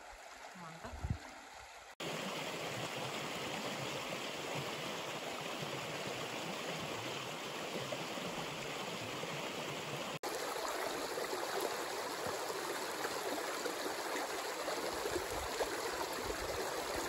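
A flowing brook in Urho Kekkonen National Park on an autumn hike, its steady broadband rush and trickle filling the scene continuously at close range, briefly preceded by a quieter moment.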